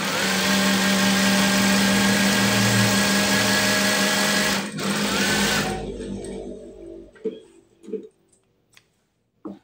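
A sewing machine runs loud and steady, stitching the seam of a child's school shirt, then stops abruptly, leaving a few soft handling clicks and knocks in near silence.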